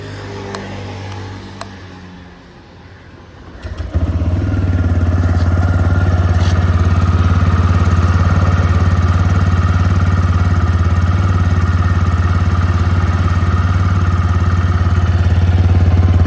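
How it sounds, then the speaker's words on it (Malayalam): A 2024 BS7 TVS Raider 125 motorcycle is quiet for a few seconds, then its engine fires and settles into a loud, steady, close idle that runs on without pause or talk. "ഇനി നമുക്ക് ഈ റൈഡറിൻ്റെ എഞ്ചിൻ്റെ ശബ്ദം ഒന്ന് കേട്ട് നോക്കാം."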